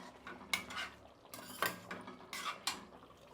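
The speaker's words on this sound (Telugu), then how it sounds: "నిన్న పెట్టుకున్నాను కదా ఆ పెరుగు వేస్తున్నాను" Thick homemade curd spooned into a metal cooking pot, heard as a few sharp clinks and scrapes of a spoon against the rim, fairly close and moderately quiet, with no voices.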